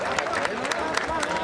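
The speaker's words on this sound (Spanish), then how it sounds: "Un fuerte aplauso, por favor." Crowd applause at an outdoor town festival honoring absent sons in Santa Cruz de Camotlán, Nayarit, steady dense clapping with a busy babble of voices throughout.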